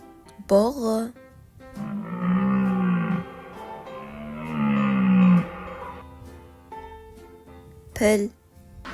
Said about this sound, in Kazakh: Бұғы.